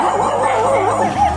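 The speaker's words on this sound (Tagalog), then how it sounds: "May aso nakabantay mga kalingap." A guard dog's wavering, whining yelp rises and falls in a short burst, close and fairly loud, with no speech over it.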